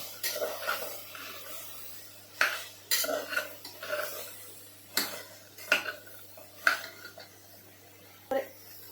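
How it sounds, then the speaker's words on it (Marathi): Chopped vegetables for restaurant-style pav bhaji heat in a dry pan without oil, heard as repeated close clanks and scrapes of a spatula stirring against the metal pan at an irregular pace, with faint voice in the background. "चिरल्या भाज्या गरम करताना ना त्याच्यात काही तेल वगैरे काहीच टाकायचं नाही फक्त त्या अशाच जरा गरम करून घ्यायच्या"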